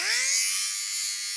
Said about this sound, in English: I bought a lint shaver.